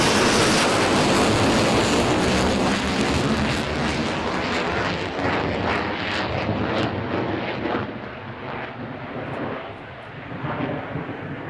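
A Boeing F-15 jet flying high angle-of-attack display maneuvers at an airshow: a loud, continuous roaring engine rumble that slowly fades and dips, then swells again, heard from a distance with no talk.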